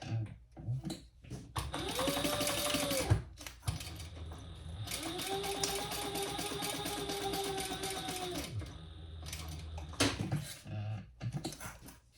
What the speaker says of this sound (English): we're going to stitch around that at the seam allowance in the pattern, leaving this bottom edge open so we can turn it